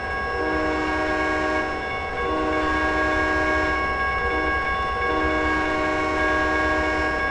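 A 16-cylinder, 3,000 horsepower diesel locomotive in the Trainz 2010 simulator drones steadily with a strong engine tone and rail rumble. A sustained horn-like tone swells in and out, loud and continuous, with no talking.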